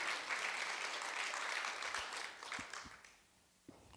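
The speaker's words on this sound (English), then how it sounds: "You can clap, you can clap, it's okay." A crowd at a beatbox performance applauds, a soft, distant wash of clapping that thins and fades out, leaving a few scattered low thumps at the end.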